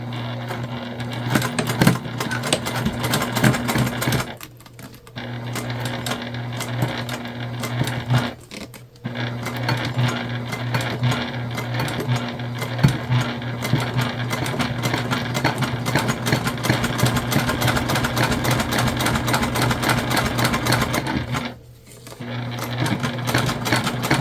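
A sewing machine top stitching a candy-shaped fabric bag: a close, steady mechanical whirr that runs in long bursts, stopping briefly three times before starting again.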